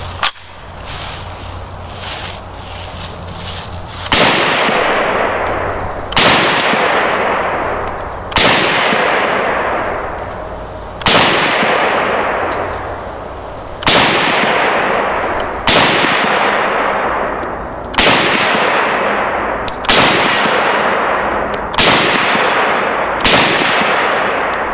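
Chinese SKS rifle fired outdoors, about eleven loud, sharp shots spaced roughly two seconds apart, each cracking report followed by a long ringing echo decay.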